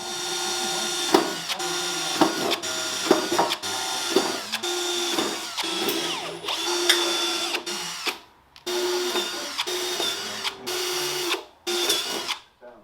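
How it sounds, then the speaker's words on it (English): A power tool cuts half-inch holes in a skid plate for a 2005–2010 Jeep Grand Cherokee fuel tank holder, loud repeated whining bursts separated by brief pauses. "So I'm going to punch some holes. We're going to get this up, and we're going to start cutting."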